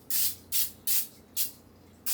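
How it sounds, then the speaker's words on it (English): Four short bursts of cooking spray hiss onto 9x13 casserole dishes, evenly spaced, close and fairly loud, with quiet pauses between them. "We're just going to give these a light spray."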